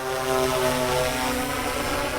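A Swellpro Fisherman Max drone flies forward, its propellers giving a steady, loud whine with a rising and shifting pitch and a constant airy drone, with no voices.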